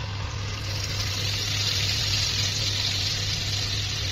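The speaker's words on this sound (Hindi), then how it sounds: "इसमें आप थोड़ा सा पानी भी ऐड कर लीजिएगा" Water pours into a pan of cooked spice masala for a soya chunks curry, a steady, continuous gushing splash that stays loud and even throughout, with no talking.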